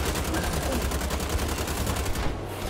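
Rapid automatic gunfire in the shooter game Wolfenstein: The Old Blood, a dense continuous burst of shots at close range that stops abruptly near the end.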